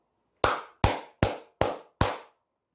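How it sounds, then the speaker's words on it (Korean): Five sharp, evenly spaced hand claps ring out close and alone, each a crisp slap with a short decay. "박수 한번 치고 가도록 하겠습니다"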